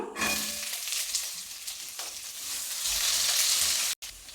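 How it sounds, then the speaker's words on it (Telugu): Two finely chopped onions frying in a pan, a steady close sizzle with light crackling that grows slightly louder, then a brief cut near the end. "నేను ఇక్కడ రెండు రెండు ఆనియన్స్ని సన్న ముక్కలా కట్ చేసుకొని వేసుకుంటున్నాను"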